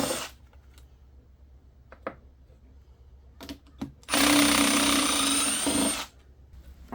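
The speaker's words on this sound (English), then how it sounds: "we'll go ahead and move it on over to the impact drill" A few light clicks and taps, then an impact drill whirs loudly for about two seconds, removing bolts from a cracked NP241J transfer case of a 2006 Jeep Wrangler LJ Rubicon, before stopping.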